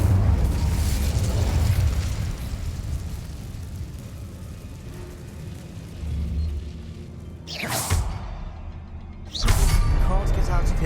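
An Incendio fire spell cast in Hogwarts Legacy bursts out as a loud whooshing blast, followed seconds later by a second sharp burst, over a dense rumbling game soundscape.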